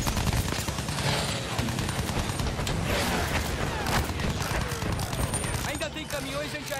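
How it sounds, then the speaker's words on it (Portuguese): Gunfire in the video game Battlefield 1 during an aerial campaign battle, rapid machine-gun bursts and dense fusillades with occasional booms, continuous and loud, while a player talks over the action. "Nossa, eu tô tomando muito tiro, cara."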